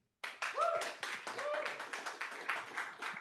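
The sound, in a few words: applause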